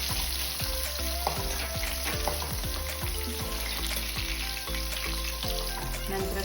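Ten to twelve green chillies fry in hot oil in a pan for a Coorg-style mango gravy: a dense, steady sizzle and crackle runs throughout, with light clinks of stirring scattered over it.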